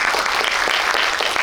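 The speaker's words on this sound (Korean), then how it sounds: "박수 한번 부탁드릴게요" An audience at a film talk event applauds a new director, a dense, steady burst of clapping from many hands that stays loud and even from start to finish.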